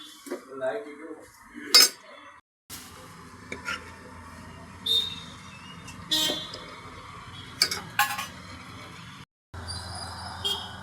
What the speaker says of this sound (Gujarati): હવે એનું ટિફિન ભરી દઈશું તો ડબ્બો ભરી લઈશું આપણે